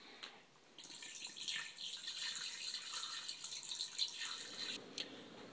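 Filtered water pours from a tap into a cooking pot over a whole chicken for homemade soup, a steady splashing, trickling stream close by that runs for several seconds without talk.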